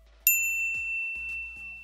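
A bright notification bell dings once, loud and close, its high metallic tone ringing out and slowly fading, followed by a few faint soft clicks and low rumbles.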